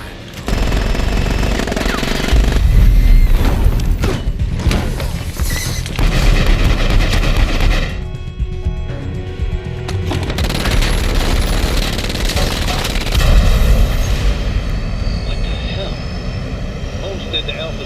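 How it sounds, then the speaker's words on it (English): Gunfire erupts aboard an airplane's passenger cabin in an Army of Two cutscene, loud bursts of shots and crashes over a roaring aircraft engine, with a brief quieter gap midway before the din resumes. "I'm seeing what looks like gunfire in the passenger cabin."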